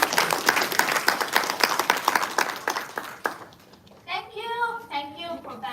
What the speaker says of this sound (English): Give her a round of warm applause